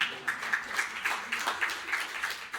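Light audience applause at a European Antibiotic Awareness Day conference, a thin scattering of claps in a steady rhythm, fairly faint and brief.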